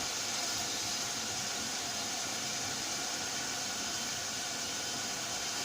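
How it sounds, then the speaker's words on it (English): Food sautéing in a pan on high heat: a constant, even hiss of sizzling that carries on without a break and with no voices. "Just saute it for about a couple minutes."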